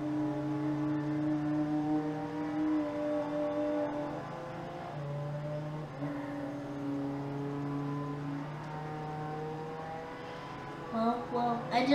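Steady game engine drone of a car driving in Roblox, a sustained tonal hum with shifting pitch steps as it speeds and slows, continuous and fairly loud, with a brief scrape near the end.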